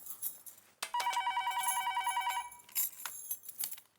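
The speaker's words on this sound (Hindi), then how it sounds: "सुबह सुबह किसका फोन आया है?" An old-style telephone bell rings in a rapid trilling burst for about a second and a half, with rustling movement before and after.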